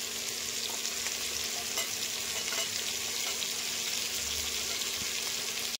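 Chopped onions, ginger and green chili frying in a pan for butter paneer masala, a steady close sizzle with faint stirring scrapes and no talking.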